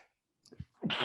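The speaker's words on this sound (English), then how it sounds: "But I'm sneezing." A single person sneezes indoors at a film Q&A, starting with a short sharp intake of breath and ending in a loud burst that finishes the clip.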